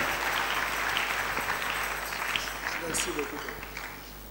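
A church congregation in Kinshasa claps for Jesus during a service, a dense steady wave of applause throughout, with a voice speaking over it.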